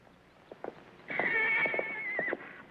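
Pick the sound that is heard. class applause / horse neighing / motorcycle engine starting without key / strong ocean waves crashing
horse neighing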